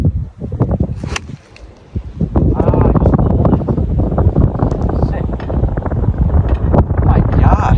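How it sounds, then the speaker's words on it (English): Wind gusting across a golf course buffets the microphone in a steady roar, with rustling and a voice talking nearby. "there's wind behind us"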